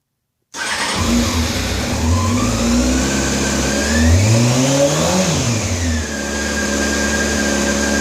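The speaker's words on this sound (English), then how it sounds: "Kill switch and start. Sounds like a bike" A 2000 Honda CBR 600 F4 motorcycle cranks and fires, then runs steadily close by, its engine note rising and falling through a few blips of revving before settling back toward idle.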